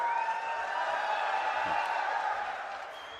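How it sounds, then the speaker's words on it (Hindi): Sustained applause and crowd noise from a large political rally audience in Madhya Pradesh, a steady wash of clapping and cheering that holds for several seconds and then gradually fades. "इनके लिए भी ताली बजवाए।"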